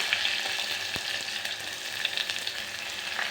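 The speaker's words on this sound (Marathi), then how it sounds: "जिरं आणि कांदा आणि टमॅटो कांदा टाकून घेते" Cumin, onion and tomato fry in a pan for a Maharashtrian matki rassa bhaji, giving a steady close sizzle with soft crackles and a faint stir, with no talk.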